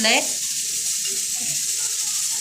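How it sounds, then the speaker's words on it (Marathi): Oil sizzles gently and steadily in a hot pan. A brief voice fragment sits at the very start. "आता आपलं तेल तापत आलेलं आहे"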